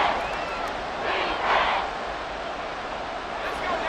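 Stadium crowd noise in the Madden 24 football game, a continuous roar that swells briefly into louder cheering midway, with no clear talk over it.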